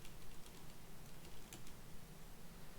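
Keystrokes clatter quietly on a computer keyboard during a software deployment, a loose run of soft taps over a steady background hiss.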